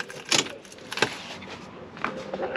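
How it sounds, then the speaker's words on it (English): Keys jangle in the ignition as it is switched off in a car with a 2JZ engine, a few brief close metallic rattles with quiet pauses between, no talking. "Turn the ignition off."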